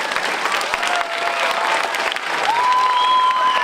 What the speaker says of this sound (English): I want to do a round of applause for 4 people